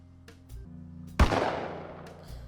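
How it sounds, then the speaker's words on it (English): A single sharp gunshot rings out in the mystery video game The Sexy Brutale, its loud crack trailing into a long, fading reverberant tail over quiet background tones. "There's the gunshot."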